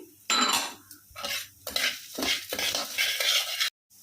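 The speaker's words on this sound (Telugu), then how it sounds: "ఇలా మినపప్పు కూడా వేగిన తర్వాత ధనియాలు వేసుకొని ఒక మూడు నిమిషాలు వేయించుకోవాలి" Coriander seeds and urad dal are dry roasted in a pan, giving a series of dry rattling, scraping stir strokes with a spatula, close and moderately loud, separated by short pauses.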